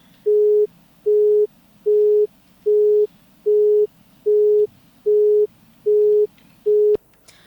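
A telephone busy signal sounds on a line that fails to connect during a live news broadcast call: nine evenly spaced, loud, steady tone bursts pulse in a regular on-off rhythm, ending with a sharp click.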